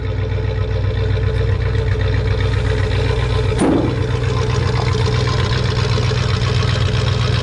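A 1967 Pontiac Le Mans V8 runs steadily after startup, a loud, close, continuous low rumble with a brief sharp burst partway through.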